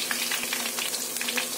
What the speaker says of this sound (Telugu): ఇలా ఫ్రై అవుతున్నాయి చికెన్ పీసెస్. ఇంకా ఫ్రై అవ్వాలండి.